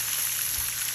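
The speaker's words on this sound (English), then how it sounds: "These burgers are going to fry on each side for about 4 minutes." Burgers fry in olive oil in a hot pan, giving a steady, close hiss of sizzling with fine crackle that holds evenly throughout, no voices.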